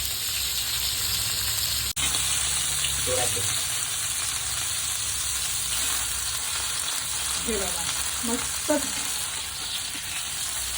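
Prawns fry crisp on a tawa over high heat, giving a continuous loud sizzle with occasional spatters and stirring, while a voice speaks briefly.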